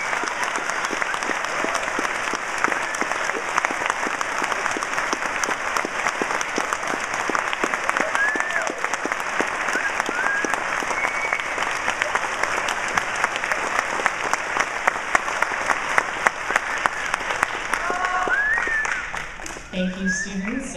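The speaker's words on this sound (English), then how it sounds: "Let's give all these students a round of applause." Audience clapping for students at an elementary school fifth-grade graduation ceremony, a loud sustained round of applause with a few voices and cheers mixed in, tapering off near the end.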